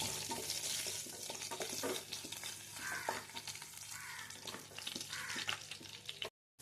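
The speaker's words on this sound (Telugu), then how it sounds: "పోపు అయితే బాగా వేగిందండి" Mustard seeds, cumin, dried red chillies and garlic fry in hot oil for a Telugu-style moong dal tempering, a steady crackling sizzle with sharp pops and stirring scrapes, close and continuous, then cutting off abruptly.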